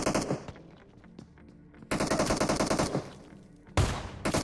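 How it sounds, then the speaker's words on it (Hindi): VSS rifle gunfire in the mobile battle-royale game PUBG Mobile, rapid bursts of close, loud shots in three clusters with short quieter gaps between them. "मेरे को पीछे से एक साउंड आया जो कि शायद वीएसएस यूज कर रहा था"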